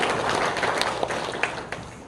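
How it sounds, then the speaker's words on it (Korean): Congregation applauding in a Korean church during Sunday worship, honoring a choir and youth orchestra; moderate, continuous clapping from a room of people with a few sharper claps standing out. "다시 한번 박수"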